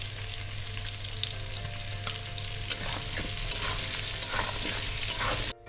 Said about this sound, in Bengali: আর দেবো এবার একটু লবণ দিয়ে আমি আলুগুলোকে ভেজে তুলে নেব।